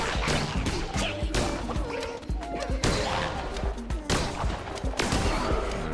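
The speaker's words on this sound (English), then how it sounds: "Nothing like shooting the tree." Shooting a tree in the Cult of the Lamb video game produces loud, punchy impact bursts in quick irregular volleys, sharp thuds and crashes over a busy game soundtrack, close and continuous throughout.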